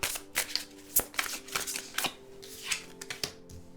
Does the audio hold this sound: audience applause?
no